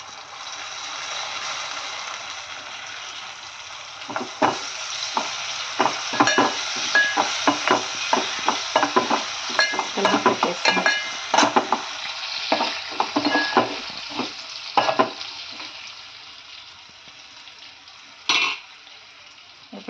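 Amaranth greens being stir-fried with curry leaves and turmeric, a steady sizzle broken by many quick scraping stirs of a spatula through the middle stretch, close and fairly loud, with no talking.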